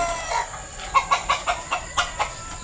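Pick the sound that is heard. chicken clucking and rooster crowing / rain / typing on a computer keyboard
chicken clucking and rooster crowing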